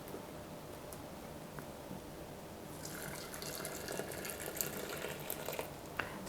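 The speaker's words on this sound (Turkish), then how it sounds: "Üzerine sıcak su ekliyorum" Hot water poured over loose tea in a strainer to brew tea for kombucha, a soft running splash that grows fuller and brighter halfway through.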